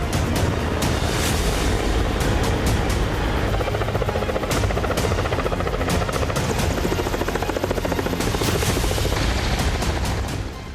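A Russian navy Mi-24 attack helicopter on coastal patrol roars close by, its rotor chopping steadily and loudly through the whole stretch without pause.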